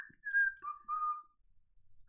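A person whistles a short two-note phrase, a sustained higher tone sliding down into a lower held note, clear and close with no talking over it.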